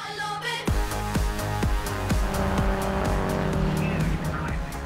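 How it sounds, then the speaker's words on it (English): Aston Martin race cars, from pre-war racers to modern GTs, roar along a race track, with loud, continuous engine noise, repeated sharp gear changes and bursts of tyre squeal close by. "examples of Aston Martins through the ages, with some of their finest road and race machinery on and around the track"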